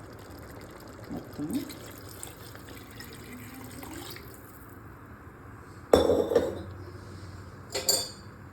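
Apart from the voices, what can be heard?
water poured into mutton biryani pot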